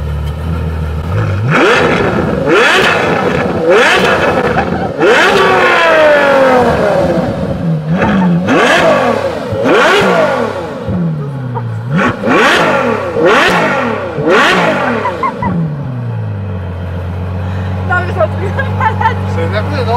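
Ferrari with an 800 hp engine starting up, then revving hard in a series of loud, rising and falling bursts, with people talking over it and a steady idle at the end.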